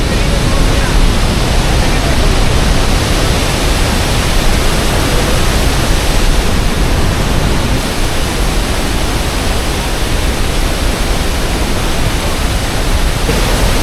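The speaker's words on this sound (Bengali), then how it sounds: "এত জোরে জলটা পড়ছে মানে সত্যিকার অসাধারণ অনেকটা উঁচু থেকে জলটা পড়ছে" A powerful waterfall plunging from a great height near Ranchi, throwing up mist, gives a loud, steady, broadband roar that fills the whole scene without a break.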